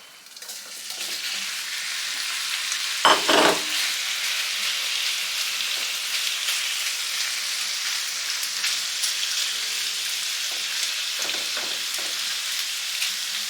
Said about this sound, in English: we're going to start frying it in the pan here